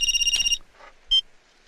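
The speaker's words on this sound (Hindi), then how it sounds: "मैं फोन करता हूँ।" Telephone ringing on a call being placed, a bright electronic ring pulsing for about half a second, followed after a pause by a shorter second ring burst, fairly close with no talk.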